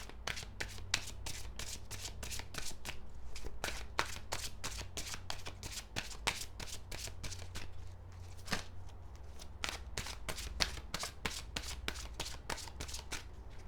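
Tarot cards being shuffled by hand in a quiet room, a fast run of crisp riffling snaps in steady bursts with brief pauses, close and clear with no talk.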